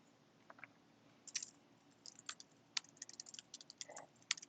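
Typing on a computer keyboard, quiet close-up keystrokes that start sparse and pick up into quicker bursts against a faint background hum, with no voices.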